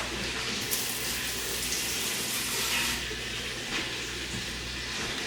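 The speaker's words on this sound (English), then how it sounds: "Do a little rinse off." Tap water runs steadily into a kitchen sink while a knife is rinsed off, a constant close splashing rush with no pauses and no talking.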